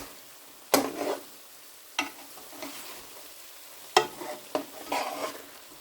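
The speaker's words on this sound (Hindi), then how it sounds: "इस टाइम मैं इसमें ग्रीन मिर्चें जो मैंने काट के रखी थी वो डालूंगी और उनको भी हम साथ में भून लेंगे।" Chopped green chilies frying with keema and mushroom in oil, giving a steady close sizzle broken by several sharp stirring scrapes and clatters of a spoon against the pan.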